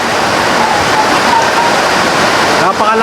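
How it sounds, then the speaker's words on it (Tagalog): Heavy rain pours down in a dense, loud, unbroken roar at a rural game farm, with no break across the whole stretch. "Sobrang lakas na ng ulan ngayon."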